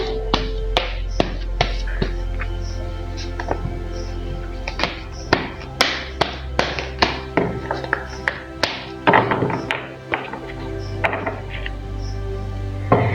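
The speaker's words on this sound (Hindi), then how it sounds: "चलिए पहले जरा कार्ड्स को शफल कर लेते हैं" Tarot cards being shuffled produce a steady run of soft taps and flicks, close and fairly quiet, repeating irregularly over a low background hum.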